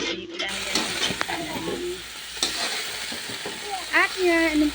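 Pancit canton ingredients fry and get stirred in a pan, with a steady close sizzle and hiss broken by scraping utensil strokes, with a voice speaking at times.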